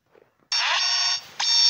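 An alarm clock rings with a bright, loud electronic buzz in two bursts separated by a brief dip, close by in a quiet bedroom.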